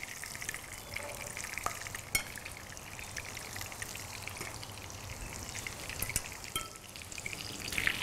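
Golden snacks deep-fry in hot oil, giving a continuous crackling sizzle at close range with scattered louder pops, heard alone without talk.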